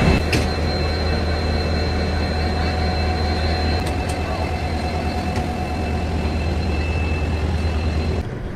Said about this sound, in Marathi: ही ट्रेन निघालेली आहे